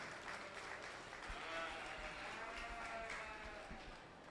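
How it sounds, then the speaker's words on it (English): A crowd applauding at a 4-H sheep show, with steady, even clapping that holds for a few seconds before tapering off slightly. "Let's give these young people a round of applause."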